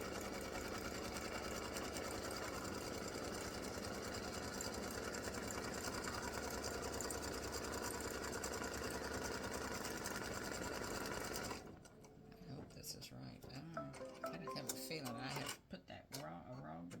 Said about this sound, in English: I'm going to stitch the placement stitch.